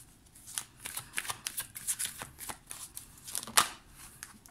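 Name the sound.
shuffling tarot cards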